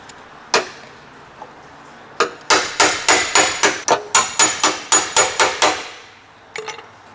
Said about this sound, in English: Alright, so I've got my little baby hammer again. Got a little chisel here.